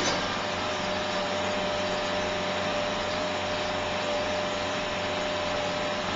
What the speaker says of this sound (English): Start the engine and run it at half throttle until it warms up.